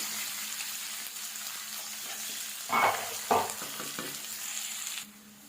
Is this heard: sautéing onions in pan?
yes